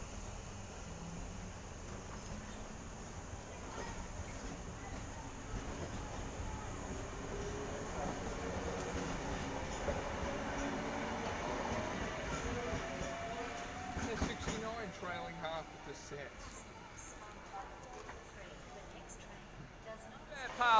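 A Sydney train pulls out of platform 3 at Stanmore station, a steady rolling rumble and rising motor whine building over about twenty seconds before easing off as it moves away, with someone talking over it.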